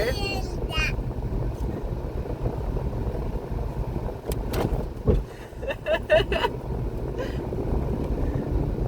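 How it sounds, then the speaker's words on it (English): Engine of a 2010 Toyota RAV4 droning steadily from inside the cabin while driving over speed bumps, with road rumble and a few brief knocks partway through; no one speaks. "it's actually a pretty loud car"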